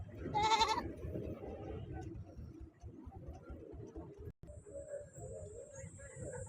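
Goats bleat under shade trees at a busy livestock market, with one near bleat early on, then a murmur of crowd noise and distant animal calls continuing in the background.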